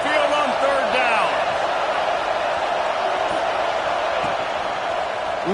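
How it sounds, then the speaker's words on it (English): Football stadium crowd at Saban Field for an Alabama game, roaring loudly and continuously on third down, a dense wall of noise from start to finish with scattered shouts and whistles within it. "The Tide crowd rolling noise down onto Saban Field on 3rd down."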